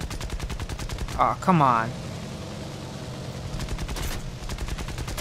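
Aircraft machine guns rattle in War Thunder, rapid evenly spaced shots in long bursts that start and end the stretch over a droning engine, while a man exclaims in the middle.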